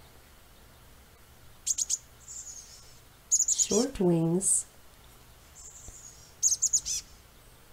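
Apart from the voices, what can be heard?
chestnut-backed chickadee calls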